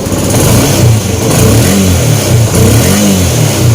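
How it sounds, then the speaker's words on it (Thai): A repaired Yamaha Spark 135i motorcycle engine runs close and loud, a steady mid-pitched idle with a few slight rev swells and no talking. "เครื่องเงียบครับ"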